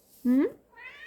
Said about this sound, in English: That's my cat Spooky meowing.